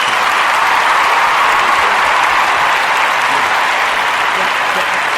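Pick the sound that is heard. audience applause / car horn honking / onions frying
audience applause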